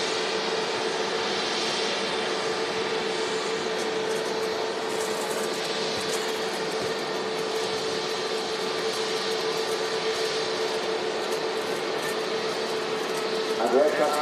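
A Singapore Airlines jet rolling for takeoff at Manchester Airport, heard as a steady, loud broadband engine roar that holds throughout with no break, carried over distance in an open outdoor setting.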